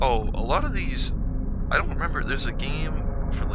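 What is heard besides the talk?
No everyday noises stand out.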